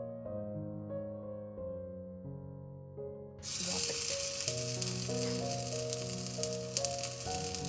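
Beetroot kofta balls coated in rice flour drop into an oiled appe pan, and after a quiet start with background music a bright, steady sizzle suddenly rises and continues under the music.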